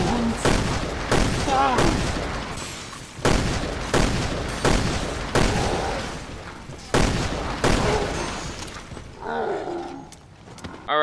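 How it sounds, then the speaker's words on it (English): Rapid bursts of gunfire from the 2005 M in Resident Evil: Revelations 2, shot at the mutant Pedro; loud, repeated shots in an uneven rhythm with creature growls and roars between them, and a voice speaking briefly. "let's test the 2005 M on Mutant Pedro"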